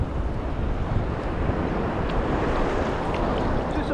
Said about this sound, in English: y'all can probably hear that wind's picking up